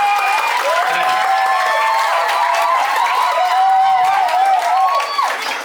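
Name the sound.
audience clapping for students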